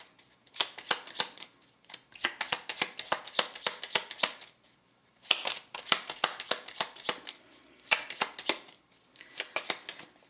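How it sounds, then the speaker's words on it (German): A deck of playing cards is shuffled repeatedly in close, crisp bursts of rapid riffling flutter, separated by short pauses. "mischen wir halt weiter jetzt"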